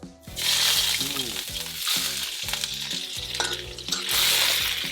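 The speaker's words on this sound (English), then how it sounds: "Fry your fish. Slow fire." Fish fries over a slow fire in a Nyonya kitchen with a loud, continuous oily sizzle close by. Pot clatter and tonal kitchen noises run through it, with no clear speech.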